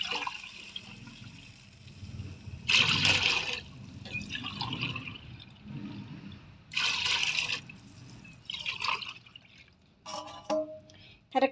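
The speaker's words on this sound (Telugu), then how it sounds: "కొబ్బరి పాలు అయితే యాడ్ చేసుకుంటా" Coconut milk is poured into a pot of basmati rice in a home kitchen, giving several bursts of splashing liquid between quieter stretches, with a faint voice talking in the background.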